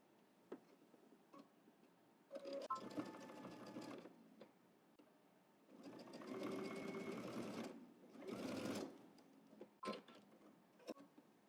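Sewing machine stitching a seam on workout shorts, running in several bursts of rapid mechanical whirring and ticking separated by pauses with faint clicks, close by and with no talking.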